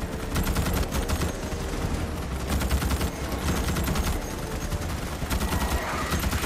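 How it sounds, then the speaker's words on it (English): Gunfire from a heavy weapon in the Starship Troopers: Extermination video game rattles continuously, a loud, dense, unbroken stream of rapid shots and blasts with no pause and no speech. "this gun has got some kick on it"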